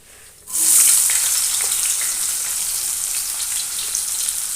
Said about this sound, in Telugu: ఇప్పుడైతే ఆనియన్స్ వేసేసుకుందాము